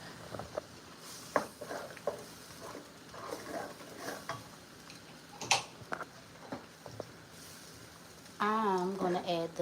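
Food stirred in a pan gives soft, scattered scrapes and taps of a utensil against cookware under faint sizzling, with a voice speaking toward the end.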